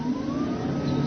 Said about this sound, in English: the motor sounds like a little sports car.